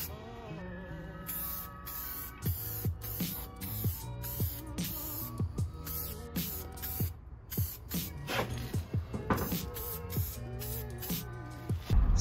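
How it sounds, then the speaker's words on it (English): Repeated short bursts of black spray paint hissing from a can onto a go-kart part, close and sharp, stopping and starting in an uneven rhythm over faint background music. "just gonna hit it with some black spray paint so it doesn't look as crusty anymore"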